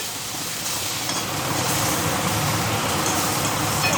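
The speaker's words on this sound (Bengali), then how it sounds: "এটা ভালো করে আমি ভেজে ভেজে মানে ভাজা ভাজা করে নিচ্ছি" A steady, dense sizzle of a gram flour mixture frying in a pan, continuous and fairly loud without any talking.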